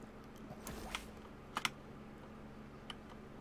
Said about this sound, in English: You can probably hear me clacking on my keyboard.